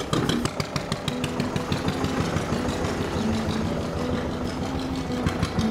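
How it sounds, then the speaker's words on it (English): A boat's main engine runs steadily on the lower River Nene near Wisbech, a continuous close mechanical chugging with a throbbing low hum that stays level throughout. "So I'm going to use the main engine to start off with"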